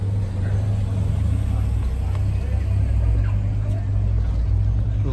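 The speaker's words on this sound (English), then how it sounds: "nice GMC truck just leaving us there" A GMC truck pulls away among other cars at a cars-and-coffee meet, its steady low engine rumble continuous and fairly loud through the clip with faint surrounding activity.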